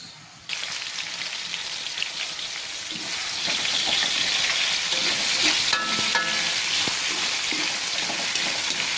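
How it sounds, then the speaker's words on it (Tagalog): Garlic, onion and tomato sautéing in a pan for chicken feet adobo, a steady close sizzle that swells louder after a few seconds, with scattered stirring clatter and no talk. "Gisa mo ng loya bawang"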